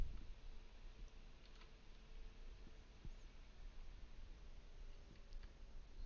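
Soft, faint mouse clicks on a Windows PC during a software install, a few isolated ticks scattered over a quiet background hum.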